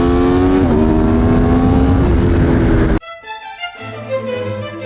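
An Aprilia Tuono V4 1100 Factory naked motorcycle at speed on a race track, its engine a loud, sustained high howl with shifting pitch, then cutting abruptly to quieter, uneven engine noise.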